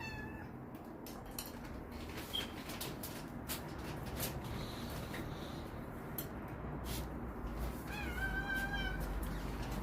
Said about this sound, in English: that cat that you're hearing